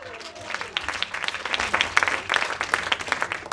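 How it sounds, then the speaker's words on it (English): An audience at an annual charity plenary event in Cambodia breaks into applause, a crowd of hands clapping steadily and building in strength, with no voices over it. "So I think one more time we do one more round of applause to all of you"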